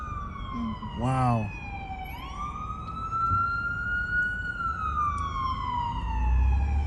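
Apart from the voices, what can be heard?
fire truck siren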